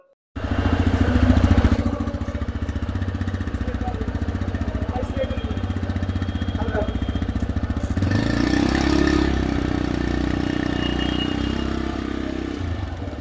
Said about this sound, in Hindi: अभी मैंने आपको एग्जॉस्ट सिस्टम भी सुना दिया था